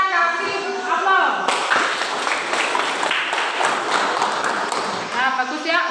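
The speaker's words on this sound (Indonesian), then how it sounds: "Kita kasih aplaus." Classroom audience of students applauding a student group's presentation, steady dense clapping of many hands sustained for several seconds, with a teacher's voice speaking briefly before and after.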